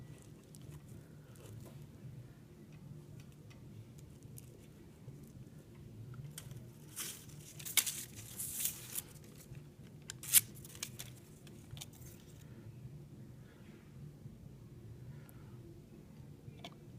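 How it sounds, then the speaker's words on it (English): Scissors trim the dried edges of a paper mache bowl, giving faint, quiet snips and crinkly paper rustles in a small cluster of cuts amid low room noise. "Once the bowl is dry, we're going to trim the pieces that are too long,"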